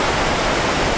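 Ocean surf at Byron Bay washes in a dense, steady roar of broadband noise, loud and continuous over a brief second with no distinct wave breaks.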